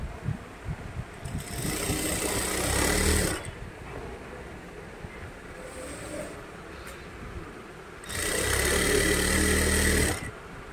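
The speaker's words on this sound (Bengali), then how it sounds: "খুব সুন্দর করে কিন্তু সেলাই হচ্ছে এখানে" An industrial garment sewing machine runs in two loud bursts of fast stitching, with a quieter motor hum and low rumble between them.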